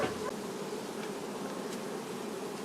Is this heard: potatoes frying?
no